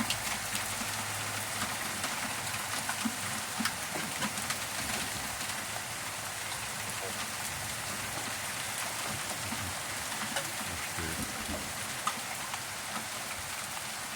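Steady heavy rain pours down for the whole stretch, a dense hiss of drops drumming on surfaces with no voices.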